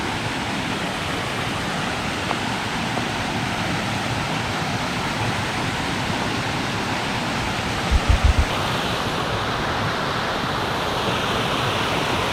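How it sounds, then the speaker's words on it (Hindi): A waterfall near Rishikesh pours with a loud, unbroken broadband rush of falling water that holds steady throughout, with a few brief low thumps partway through and no voices. "तो ये है इस वाटरफॉल का ऊपर का व्यू"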